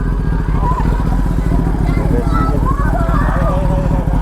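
A Kawasaki ZX10R motorcycle idles with a loud, steady throbbing engine pulse close by in a village street, as people talk over it.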